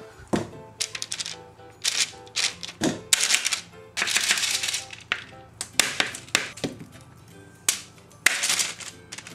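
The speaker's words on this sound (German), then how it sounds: "kleine Kleckse hier rausnehmen mit einem Teelöffel und die aufs Backblech" Teaspoon scraping and tapping vegan banana almond cookie dough onto a metal baking sheet, a series of close, sharp clicks and knocks in irregular bursts with no talk.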